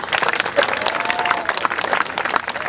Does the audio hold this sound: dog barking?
no